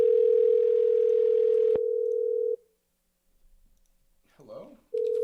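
Steady telephone dial tone during a redial, cut off by a click, followed by a short silence, a brief faint warble, and then the tone returning.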